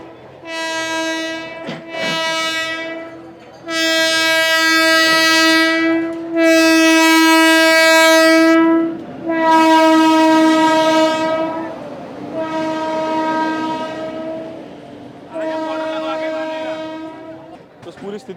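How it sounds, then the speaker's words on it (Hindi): A train passes on an active railway line with long, loud horn blasts repeated several times over a rumbling, clattering passage, close by and filling the scene. "ये एक्टिव रेलवे लाइन है जहाँ पर लगातार ट्रेनों की आवाजाही रहती है।"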